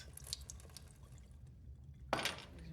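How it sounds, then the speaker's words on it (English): Liquid poured down a drain gives a soft trickle and a few drips, then a sudden louder gush near the end, with a faint background hum. "He's pouring it down the drain."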